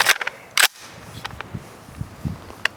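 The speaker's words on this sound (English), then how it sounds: "So let's take a couple more shots with it, see if we can hit anything with it." Two sharp rifle shots from a non-AR platform rifle crack out at a shooting range, close and loud, separated by a short pause, with a few fainter clicks and knocks between and after them.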